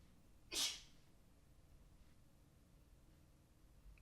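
A single close, sharp sneeze bursts out near the start, then fades into a quiet indoor room with faint background hiss.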